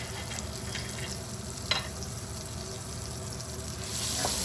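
Potato curry frying in a pot and getting a brief stir, with a steady sizzle throughout and a single short scrape partway through. The sizzle swells a little near the end. No one speaks.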